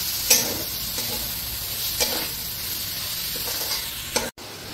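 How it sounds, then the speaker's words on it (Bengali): Minced meat sizzles steadily while it is stir-fried in a pan, with a few sharp spatula scrapes spread through the continuous frying hiss. "এবার এর মধ্যে আমি কিমাটা দিয়ে কষে নেব।"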